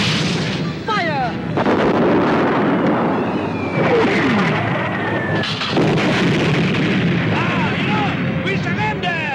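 Cannon fire effects in a radio serial, heavy booming blasts layered with rumble and whistling sweeps, loud and continuous under overlapping shouting voices.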